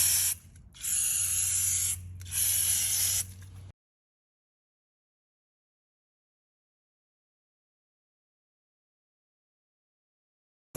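Parts cleaner and brake cleaner sprayed from aerosol cans onto a concrete floor to lift oil: three sharp hissing bursts close by, the last two longer, and then silence.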